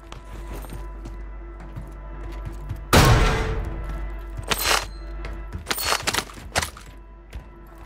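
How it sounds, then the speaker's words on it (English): Gunfire from a weapon in a battle royale video game: a loud burst of cracking shots followed by several sharper, scattered volleys, close and punchy against a steady low background hum. "Want to see how this gun was shooting."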